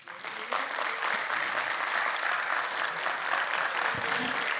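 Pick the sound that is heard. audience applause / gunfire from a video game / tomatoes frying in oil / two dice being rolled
audience applause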